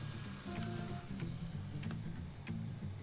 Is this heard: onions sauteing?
yes